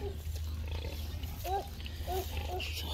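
Young pigs grunting on a farm, several short low grunts and squeals scattered over a steady low background hum, fairly faint and close.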